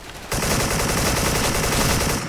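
A sustained burst of rapid automatic AK-74 rifle fire in a video game, loud and continuous for about two seconds, rattling close up.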